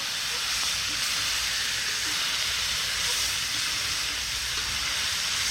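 Pork tenderloin cooking down in a pan outdoors, a steady, even sizzle and hiss that holds at the same level throughout with no pauses.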